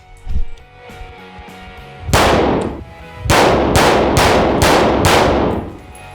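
An AR-15 rifle fires several loud, sharp shots on a range: one report, then a pause, then a rapid string of four or five close shots with echoing tails.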